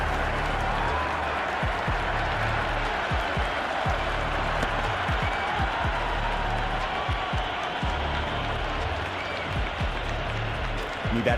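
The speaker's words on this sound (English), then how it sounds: "There's a buzz, a real buzz coming from the stands." Stadium crowd in the Cricket 26 video game during a Pakistan versus England T10 match, a steady loud roar of cheering and applause filling the whole stretch, with a constant wash of noise and occasional low thumps.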